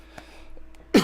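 A single short cough bursts out at the end after near-quiet, close and fairly loud, preceded by faint small clicks and breaths.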